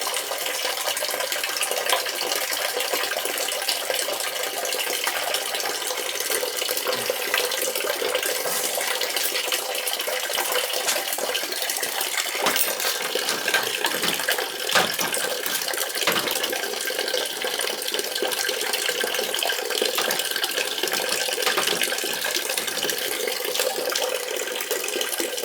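Water drains steadily from a proof box steam boiler that is not firing up, a loud, continuous rushing gush that holds unbroken and without pause for the whole stretch, with no voices.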